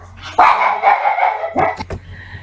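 A small dog barks sharply a few times, a longer yapping bark followed by quick high yips, fairly close in a quiet room.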